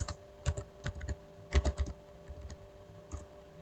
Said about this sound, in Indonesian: Lalu saya ketikkan IP address lagi.